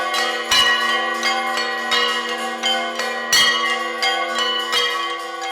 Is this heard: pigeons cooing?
no